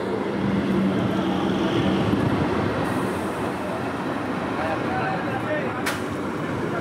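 A train rumbles into a station with a steady, loud rolling roar of wheels and carriages, a brief high squeal near the end, and faint voices underneath.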